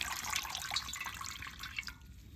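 Young jute leaves being washed in water, with a steady splashing, trickling sound of water and leaves stirred by hand, close and fairly quiet throughout, no voices.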